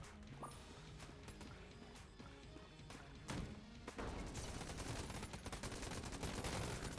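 Rapid bouncing-bullet gunfire from the video game Enter the Gungeon, a busy, continuous barrage of shots and impacts with game music, growing denser and louder partway through.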